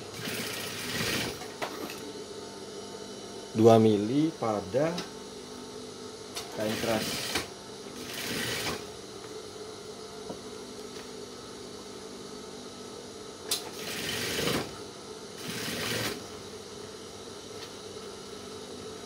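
A sewing machine stitches a men's trouser waistband in short bursts of rapid whirring, with pauses between runs while a person talks throughout.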